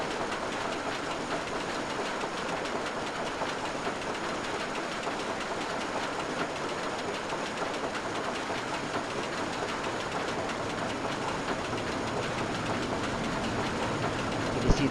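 A roller coaster train in RollerCoaster Tycoon 3 climbs its first lift hill with a steady, continuous clattering rumble that stays even and moderately loud throughout.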